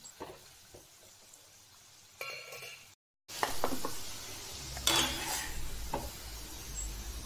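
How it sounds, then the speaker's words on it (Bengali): Potato sticks for french fries fry in oil over a low to medium flame, giving a steady, moderate sizzle with a few clinks, a brief silent gap midway, then a louder bubbling burst. "আর লো টু মিডিয়াম ফ্লেমে রাখলে আলুগুলো ভালো করে ভাজা হবে আর ক্রিস্পিও হবে সাথে।"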